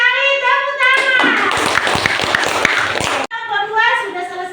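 Children in a classroom clap their hands together in a burst of quick, close claps lasting about two seconds, with young voices chattering before and after.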